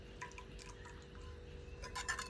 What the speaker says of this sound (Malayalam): നമ്മള് കുറച്ചും കൂടെ ഒക്കെ വെള്ളം ഒഴിച്ചു കൊടുത്തു